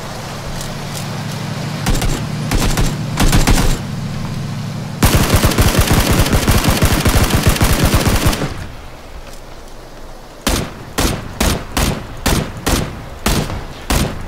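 Loud gunfire from a shooter video game: long rapid machine-gun bursts with a vehicle engine droning underneath, then a run of separate evenly spaced single shots toward the end, all very close and with no voices.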